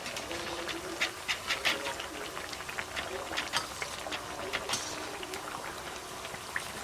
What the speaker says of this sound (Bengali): কঞ্চি তো খুব হু করে জ্বলে যাচ্ছে